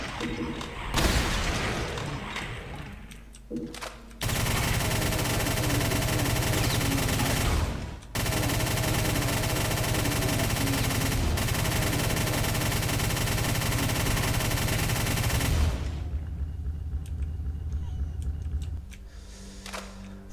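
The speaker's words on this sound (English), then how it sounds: "Thank goodness for chain gun stun." Chain gun firing in the video game Brutal Doom 64, loud sustained bursts of rapid fire, one several seconds long and another nearly eight seconds, separated by brief pauses and mechanical clatter.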